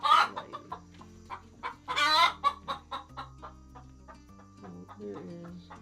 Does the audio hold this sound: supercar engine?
no